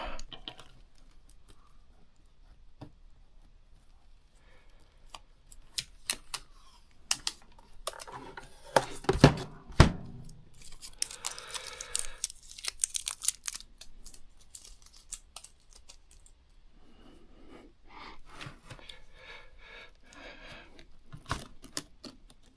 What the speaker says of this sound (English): I need to remove this tape and that tape.